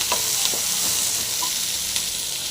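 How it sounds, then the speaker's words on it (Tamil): Onions frying in oil for a Tamil mutton intestine fry, a dense, close, steady sizzle with faint stirring taps throughout. "நல்லா வெங்காயம் ஃப்ரை ஆகட்டும்"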